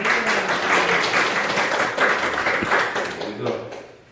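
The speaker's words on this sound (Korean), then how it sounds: "박수 쳐주세요." A church congregation at a Bible study gathering applauds a deaconess: steady, broadband clapping from many hands, fairly close and sustained for several seconds, with voices mixed in underneath.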